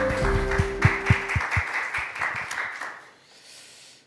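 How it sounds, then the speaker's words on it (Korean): A church congregation at a Sunday service claps as sustained musical tones die away, the scattered clapping thinning out and fading to quiet within a few seconds. "하나님 박수를 영광 올려드리시죠"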